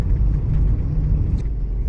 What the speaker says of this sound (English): traffic's even kind of normal